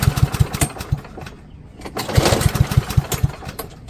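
An MTD Powermore lawn mower engine being pulled to start while slightly warm with the choke on, giving bursts of rapid sputtering cranks that rise and fall over several seconds, close and loud, with no voices.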